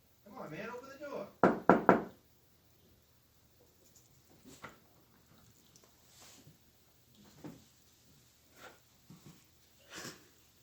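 Several sharp knocks on a door, a hard cluster of three or four raps up close after a muffled voice, followed by softer scattered knocks and thumps.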